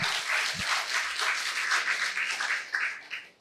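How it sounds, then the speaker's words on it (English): An indoor audience at a life skills training session claps steadily in a dense, continuous round of applause that tapers off at the end. "Round of applause. Keep the applause going."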